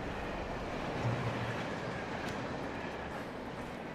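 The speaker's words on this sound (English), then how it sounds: "Train." Steady train rumble from the Alan Wake video game, a continuous rolling rail noise at constant loudness with clattering carriage texture, no voices over it.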